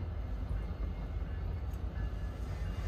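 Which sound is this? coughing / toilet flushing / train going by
train going by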